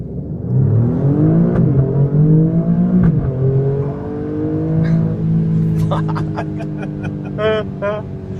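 A 2019 Alfa Romeo Stelvio Quadrifoglio floored from a stop, its engine note climbing steadily and loudly through the gears over several seconds, heard from inside the cabin with a brief shift dip midway.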